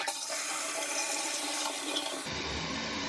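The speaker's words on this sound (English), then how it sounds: "So now we'll test the flushing motion." A toilet flushes after a broken handle was swapped for a new lever, a steady loud rush of water that cuts abruptly to a lower refill gurgle near the end, close by and with no talk.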